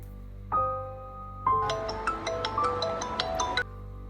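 A phone ringtone plays alone, a short melodic chime followed by a longer run of bright electronic notes, with no one picking up.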